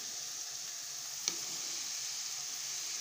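Baby corn drops into a pan of frying mixed vegetables, giving one brief soft splash within a steady, moderate sizzle that holds evenly throughout, with no talking.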